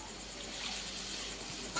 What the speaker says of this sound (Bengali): সর্ষে বাটাটাকে জলে গুলে আমি দিয়ে দিলাম পুরোটা।